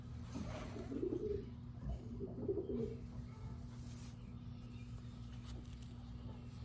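A racing pigeon coos softly at close range, two low rolling coos in the first few seconds over a steady hum of background noise.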